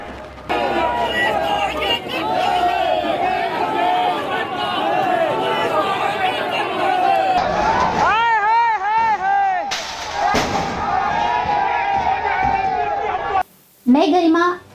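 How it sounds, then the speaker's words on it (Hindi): A crowd massed outside a police station shouts protest slogans, a loud, dense wall of many voices with rising and falling chanted cries, broken by a brief drop near the end. "सर, पुलिस थाना के सामने लोगों की भीड़ जमा हो गई है। शिक्षा मंत्री हाय हाय,"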